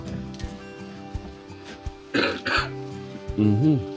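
Two short, harsh coughs from a nearby person, standing out over background humming and a few soft knocks, followed by a brief murmured voice.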